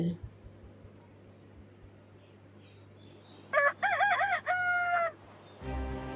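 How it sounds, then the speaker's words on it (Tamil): A rooster crows once, loud and close, a long wavering call lasting over a second, after a quiet stretch with faint background murmur. "நான் தான் சேவல். நான் ஒரு வீட்டு விலங்கு."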